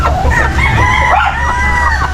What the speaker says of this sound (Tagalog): 3 tandang, ayan.